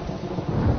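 Heavy rain pours in a dramatic film scene, with a deep low thunder rumble swelling beneath a dense, steady hiss of rainfall in a short, loud burst.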